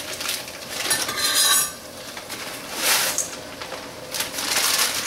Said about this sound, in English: So now I'm just going to take my stuffing and I'm going to add them